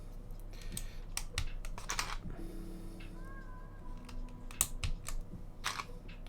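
Keycaps are pressed onto a TX60 HHKB mechanical keyboard with an antique copper case, giving a scattered series of sharp plastic clicks and snaps at close range, irregular in rhythm, with quiet pauses between.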